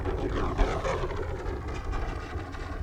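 A Hangar 9 P-47D Thunderbolt 20cc radio-controlled plane comes in to land with its engine throttled back, a steady low propeller drone at moderate distance, fairly faint with slight wavering.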